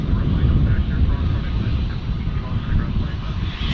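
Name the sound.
airplane taxiing at Dallas Fort Worth airport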